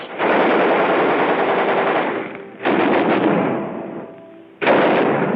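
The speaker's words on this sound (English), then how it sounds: "Check and test fire all weapons." Marines test-fire machine guns in loud, close, sustained automatic bursts, three long strings of rapid fire separated by brief pauses.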